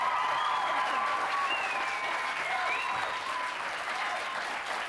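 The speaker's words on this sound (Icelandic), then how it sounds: "Við bara gefum Jóni og Esso bara gott klapp." A studio audience at a 1994 Icelandic televised song contest show applauds loudly and steadily, dense clapping sustained throughout with faint whoops rising above it.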